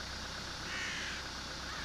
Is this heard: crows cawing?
yes